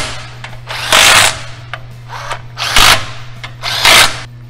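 A power tool tightens bolts on the spring-loaded lid of a high-pressure bag filter unit, sounding as three loud, close bursts of whirring about a second long each, separated by pauses over a low steady hum.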